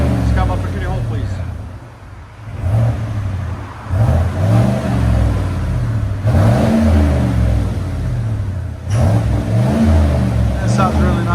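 Car engine revving through a Borla Atak LS crate muffler, giving repeated rising and falling revs with a deep exhaust note. It is loud and close, and people talk over it.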